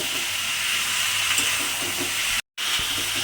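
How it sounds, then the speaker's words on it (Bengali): Vegetables for a Malabar spinach dish are stir-fried with spices in a pan, giving a steady, close sizzle and hiss with a brief cutout near the end and no voices. "দিয়ে সবজিগুলোর সঙ্গে খুব ভালোভাবে একটু মশলার সঙ্গে কষিয়ে নিতে হবে"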